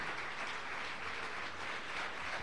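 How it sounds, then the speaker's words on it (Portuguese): A church congregation applauds during a sermon, producing a steady, even wash of many hands clapping at moderate volume, with no clear talking over it. "Você pode aplaudir ao Senhor, meu irmão?"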